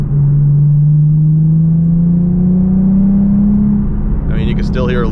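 A Nissan 370Z cruising near 3,000 rpm, its engine drone rising steadily and loud throughout, with only a slight leftover rattle present before a brief higher burst of noise near the end.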